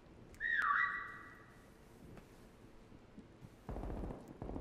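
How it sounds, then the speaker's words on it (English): A whistle cue in a prop hunt video game rings out once as a bright, steady tone lasting about half a second, followed by scattered game noises and a louder rumbling burst near the end. "there goes another whistle"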